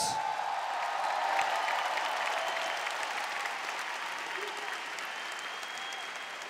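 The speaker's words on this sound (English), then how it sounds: "a big round of applause for your warriors!" Arena crowd applauding two female fighters after a five-round ONE Championship bout; a broad, steady wash of clapping and crowd noise, loud at first and slowly tapering.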